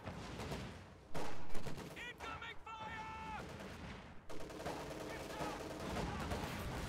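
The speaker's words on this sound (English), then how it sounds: "This machine gun's still pelting it, and we just take it out." Machine gun fire in the Company of Heroes 2 strategy game, dense rapid bursts amid a busy battlefield din of explosions and scattered shots, with tonal unit chatter or signals briefly rising midway.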